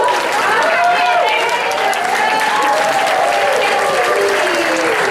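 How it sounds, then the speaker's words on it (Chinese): Steady audience applause fills a gospel concert hall, dense and continuous, with a voice talking over the clapping. "掌声。"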